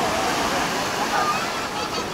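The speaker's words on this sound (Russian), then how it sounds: "Смотрите, какие здесь волны." Steady, broadband rush of sea waves breaking on a beach in Spain, heard close and loud with a constant wash and no distinct individual breaks.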